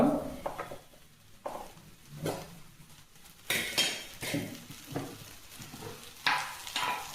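Cauliflower and raw chana dal fry being stirred in a pan, with repeated scraping and clinking strokes of a utensil over a soft sizzle, close and moderately loud, no talking.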